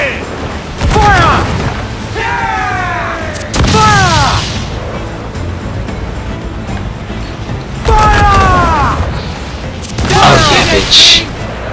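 Mortar fire from a sailing ship in Assassin's Creed 4 Black Flag, heavy booms recurring in bursts, each followed by whistling, descending shell sounds over a rumbling sea-battle backdrop, with shouted voices now and then.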